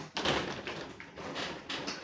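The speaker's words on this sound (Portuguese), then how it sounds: "esse barulho que vocês estão escutando é minha cachorra tentando abrir a porta aqui do lado" A dog scratching and pushing at a door in a house, rough repeated scraping bursts and knocks close by, steady for a couple of seconds.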